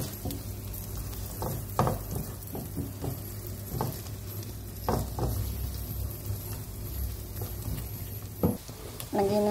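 Half an onion with chilies frying in a pan for chicken sisig, a low steady sizzle with occasional utensil knocks and stirring clatter throughout, close and moderately loud.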